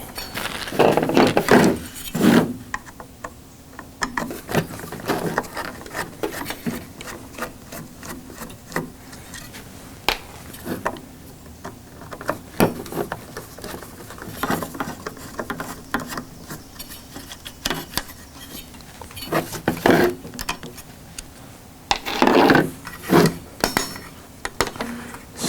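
Screws being unscrewed from an Atari Paperboy arcade power supply during a rebuild: close, irregular metallic clinks, scrapes and taps of a screwdriver and loose hardware, with quieter handling between louder bursts and no talking.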